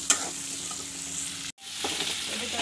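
Onions fry in a pan for an egg and cauliflower curry, a constant close sizzle with a brief stir noise near the start and a short break partway through.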